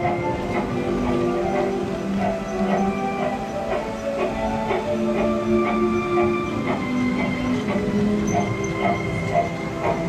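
Lego toy train running along its track in a home layout: steady close rolling rumble with rhythmic clicking from the rails and wheels, continuous and fairly loud throughout with no talking.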